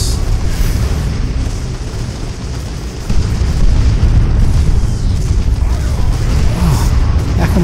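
Rocket explosions in Warhammer 40k Dawn of War 2 during an Ork campaign battle: a dense, continuous roar of booms and blasts, loud throughout and swelling heavier partway in, with little talk.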